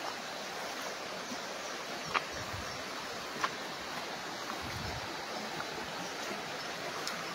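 A river flowing beside a rural farm lot in Real, Quezon, heard as a steady broadband wash of moving water with a couple of faint ticks, continuous and moderately distant, with no talking.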